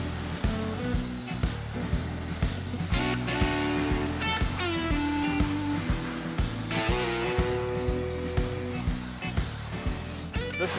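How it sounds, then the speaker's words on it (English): A foam gun sprays insulation foam into gaps in an 1880s farmhouse, giving a steady close hiss over a cluttered background, with no talking. "when I spray foam the area that was done last week"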